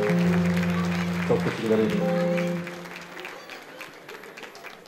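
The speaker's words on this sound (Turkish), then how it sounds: "hepsine şöyle bir büyük alkış alalım" Audience applause at a live event with drum and zurna players, a burst of clapping under a voice and sustained instrumental tones, then tapering off to a quieter patter.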